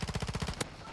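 Rapid burst of automatic fire from a PDSW 528 submachine gun in a shooter game, about seven quick close shots in even rhythm, then a single sharper crack before the firing stops and a quieter tail remains.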